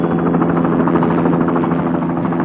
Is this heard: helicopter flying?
yes